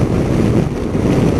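Wind buffeting a rider on a Yamaha Tracer 900 GT motorcycle at speed, a loud, steady roar of gusty wind noise against the helmet and microphone, with no talking.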